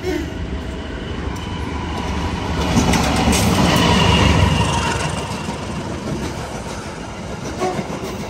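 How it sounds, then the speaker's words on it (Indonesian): The Gajayana passenger train passes on the rails with a steady, loud rumble and rhythmic wheel clatter that swells in the middle and then eases, with faint voices beneath it. "Berarti ini keretanya Gajayana ini."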